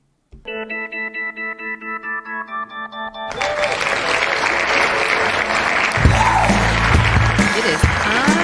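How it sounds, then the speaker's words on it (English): Canned applause sound effect on a National Weather Service science officer's live show, following a short plucked musical jingle; sustained dense clapping and crowd noise rises abruptly and runs loud to the end. "I'll start the song and then do the applause"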